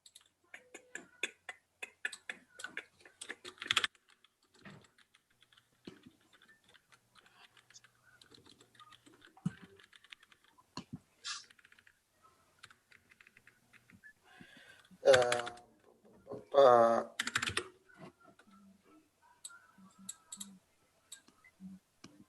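A password typed on a computer keyboard: sparse, quiet key clicks scattered irregularly through a long stretch, with a few louder bursts of other noise in between.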